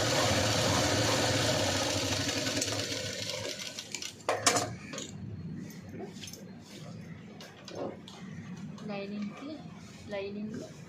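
A sewing machine runs in a dense, rapid mechanical whir for about four seconds while stitching a V-neck princess-cut blouse, then stops, and talking follows.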